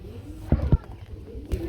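A Lahori pigeon coos in a few short, low bursts close by, with faint voices in the background.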